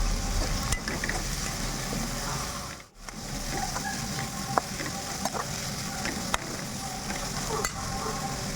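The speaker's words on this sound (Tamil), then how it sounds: "வெங்காயம், பச்சை மிளகாயும் போட்டு நல்லா வதக்கி விட்டுட்டு" Onions and green chillies sauté in hot oil in a home kitchen, a steady close sizzle broken by occasional scraping clicks of a stirring spoon, with one brief dip near the three-second mark.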